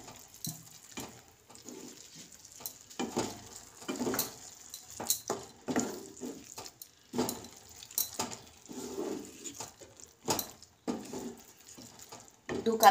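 Grated carrots for gajar ka halwa are stirred in a pan with powdered milk, giving soft, wet, irregular scraping and patting sounds in short bursts, close by.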